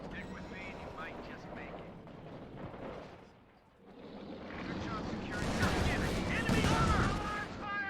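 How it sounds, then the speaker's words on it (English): Gunfire and explosions from a real-time strategy video game rumble at a distance as units shoot at trees, dipping briefly before building to heavier, denser firing, with someone talking over it. "Shooting at trees."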